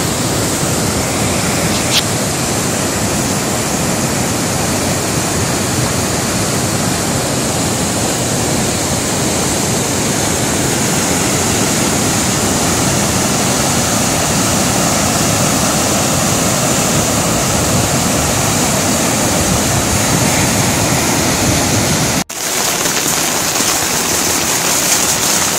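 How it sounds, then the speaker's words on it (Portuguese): Floodwater in the Palmópolis region of Brazil rushes past in a loud, steady, unbroken roar that fills the whole stretch, with no voices over it. "é muita água."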